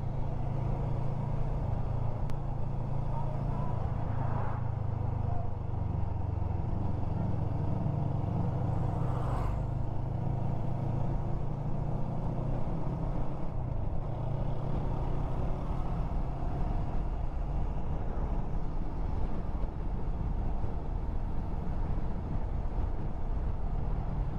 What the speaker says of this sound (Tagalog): Medyo marami-rami sasakyan dito.